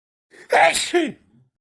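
A person with a bad cold and fever lets out a single short, close sneeze, a quick inhale followed by a sharp burst, alone in a quiet room.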